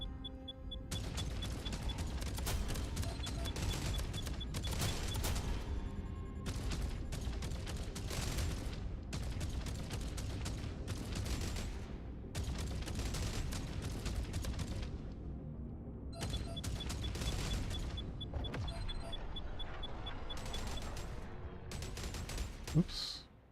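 Turrets fire in the video game More Jump Ship, dense rapid bursts of gunfire stacked into continuous volleys with brief gaps, loud and close throughout, with occasional booms.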